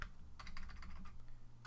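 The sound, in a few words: typing on a computer keyboard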